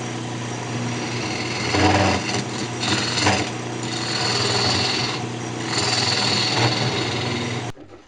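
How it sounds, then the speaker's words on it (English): A half-inch bowl gouge hollows a wooden cup on a lathe, giving a steady, close whirring hum with rougher scraping swells as the tool cuts, then stopping abruptly near the end. "And we'll hollow it out. Just using a 1/2 inch bowl gouge here."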